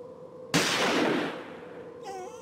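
Gunshot in the video game Murder on the Orient Express, a single sudden loud blast that decays into a roaring tail over a low background hum.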